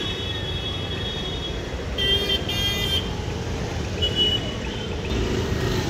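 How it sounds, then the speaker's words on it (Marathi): Steady roadway traffic noise in congested city traffic on a commute home, with a few short car horn toots rising above the constant rumble of engines. "किचकट अशी ट्रॅफिक लागलेली आहे।"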